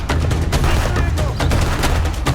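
Gunfire from the police-border game Contraband Police, a dense, loud run of rapid shots and booming impacts over a heavy low rumble, packed close together without pause.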